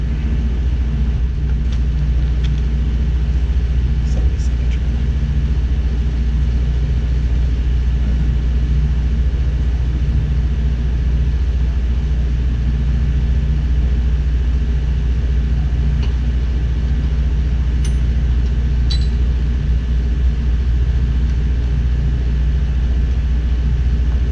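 Aircraft turbo engines being walked up to power, a loud, unbroken low rumble and hum that holds steady throughout, with faint high chirps now and then and no talking.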